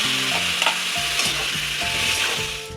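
Ground spice paste hits a hot frying pan with the greens already fried, giving a steady close sizzle with stirring scrapes and clinks throughout, no talking.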